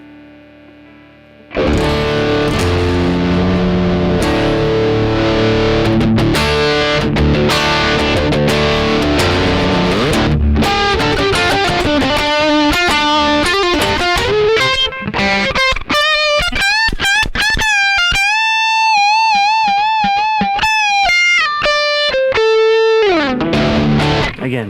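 A heavily distorted electric guitar through a Tech21 SansAmp GT2 amp-simulator pedal plays loud chords and then sustained, saturated single notes, buzzing and gritty throughout after a quiet start.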